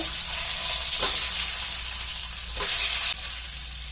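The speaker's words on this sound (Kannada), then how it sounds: "ಮೊಟ್ಟೆನ ಇದರಲ್ಲಿ ಫ್ರೈ ಮಾಡ್ಕೋಬೇಕು ಸಿಮ್ಮಲ್ಲಿ ಇಟ್ಕೊಂಡು ಫ್ರೈ ಮಾಡ್ಕೋಬೇಕು" Eggs frying in a pan on low heat for egg masala gravy, giving a continuous close sizzle with a couple of brief stirring scrapes and no voices.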